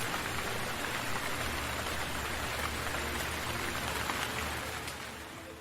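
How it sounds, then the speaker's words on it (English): Rain audio plays as ASMR during a night-sky livestream: a dense, even wash of falling drops with no voices, steady and fairly loud, easing slightly near the end. "Want it to rain louder"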